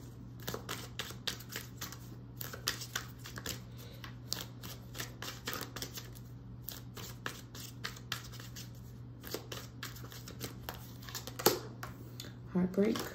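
A deck of reading cards shuffled by hand during a love reading, with quiet, rapid riffling and snapping bursts repeating close up. A voice speaks softly now and then between the shuffles.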